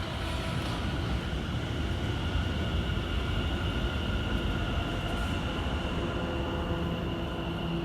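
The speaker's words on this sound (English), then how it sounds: "A Class 710 enters the station heading for Watford Junction." A Class 710 electric train pulls into a station on the West Coast Main Line, a steady close rumble and rail rush with faint high whine holding at constant loudness throughout, no voices.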